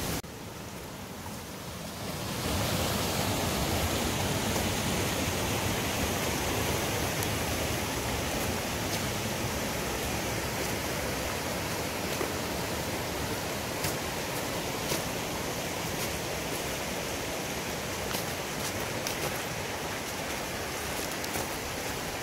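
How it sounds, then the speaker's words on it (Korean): A mountain valley stream flows steadily beside an autumn walking trail, a dense continuous rush of water that rises in after a quieter start and stays loud and near throughout, with no voices. "계곡도 보이시죠? 물소리가"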